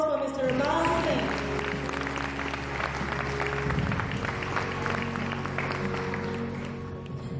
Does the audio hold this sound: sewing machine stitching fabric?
no